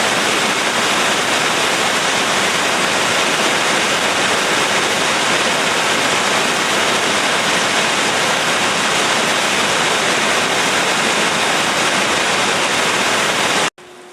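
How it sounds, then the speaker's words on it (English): Rain falls steadily as heard from a deck, a dense, loud, unbroken hiss that continues without pause until it cuts off abruptly at the very end. "This is it raining while you're sitting on the deck!"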